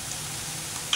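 Boondi batter frying in hot oil for kara boondi, a steady broadband sizzle holding throughout at moderate level, with a brief sharper crackle near the end.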